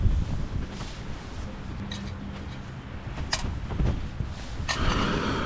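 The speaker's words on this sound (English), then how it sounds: "Oh, that wind is booming strong." Strong gale-force wind roars steadily across a mountain top at a tentless campsite, with a constant broad rumble and a few faint clicks and knocks.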